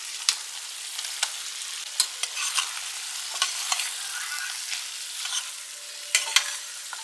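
Bell peppers and paneer stir-fried in a pan, a steady high sizzle with sharp spatula scrapes and clicks recurring every second or so, close and moderately loud with no talking.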